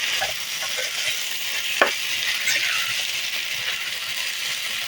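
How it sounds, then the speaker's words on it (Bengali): Potatoes and onion stalks fry in hot oil in a pan, giving a steady broadband sizzle with stirring scrapes and one brief louder clink near the middle, with no voices. "তো তেলের মধ্যে সবকিছু ছেড়ে দিয়েছি"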